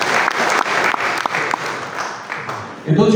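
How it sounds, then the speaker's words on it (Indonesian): A hall audience at a university work meeting gives a burst of applause, a dense steady patter of clapping that fades out, with a voice resuming at the end. "tepuk tangan untuk kita semua"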